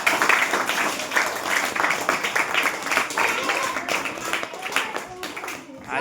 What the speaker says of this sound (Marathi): या सगळ्यांसाठी एकदा छान टाळ्या वाजवा